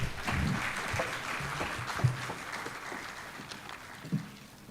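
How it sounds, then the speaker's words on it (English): Audience applause at a summit on democracy in Africa, a steady wash of clapping with a few louder accents, moderately distant and filling the room without any talk. "Please, another round of applause for Prof."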